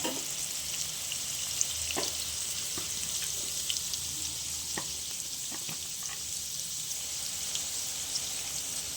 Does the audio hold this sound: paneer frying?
yes